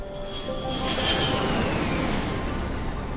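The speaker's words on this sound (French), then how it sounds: "L'avion espion U-2." A U-2 spy plane's jet engine drones steadily at close range, a sustained broadband roar with a faint whining tone riding on top, holding at a constant loudness throughout.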